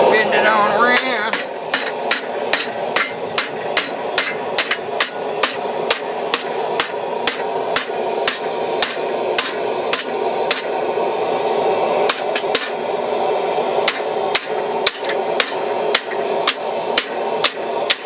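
Steady hammer blows on metal stock about three-quarters of an inch, bending it around, roughly one strike every half second, sharp ringing impacts close up with no talk.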